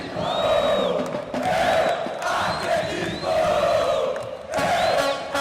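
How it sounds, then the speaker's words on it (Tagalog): An esports arena crowd cheers at a Counter-Strike match, chanting in loud rhythmic waves with whoops and whistles rising over a constant roar. "yung hype ng crowd para at least ganahan sila"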